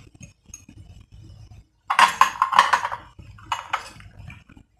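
Metal spoon clinking against a pan while urad dal is tipped in, a short cluster of bright clinks and rattles over about a second, then a second quieter scatter, with soft background noise between.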